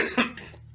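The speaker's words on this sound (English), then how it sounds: "Been fighting a little bit of a cough lately." One short, close cough bursts out and fades into a faint room tone, with no talking over it.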